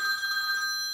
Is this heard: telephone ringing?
yes